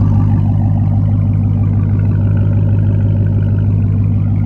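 A Dodge Challenger Hellcat Redeye idles close and loud with a choppy, lumpy rhythm, its deep engine throb pulsing steadily throughout without any talking.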